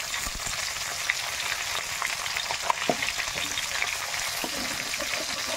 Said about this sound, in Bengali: এবার মাথাগুলো ভেজে নেব, মাছের মাথাগুলো।